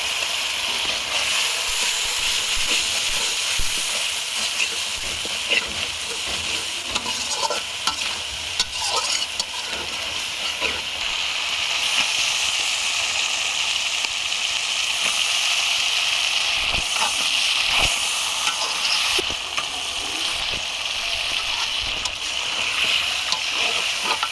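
Water poured into a pan of spiced curry with chili, turmeric and coriander powder sets off a loud, steady sizzle with stirring and splattering throughout, close and unbroken with no talk.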